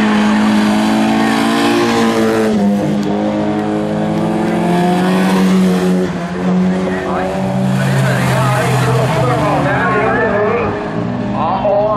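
Bilcross race cars at a junior festival in Elverum, engines roaring and revving loudly and continuously, with tire noise, under a commentator's steady talk throughout.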